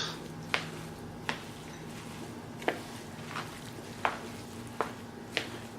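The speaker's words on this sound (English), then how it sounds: "Give it another mix." A vegetable quinoa salad is tossed in a bowl, giving quiet, regular scraping taps of the utensil roughly every second over a faint background hum.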